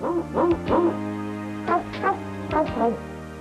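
A dog gives a series of high, yelping barks and whimpering yips in two bursty clusters, close and fairly loud.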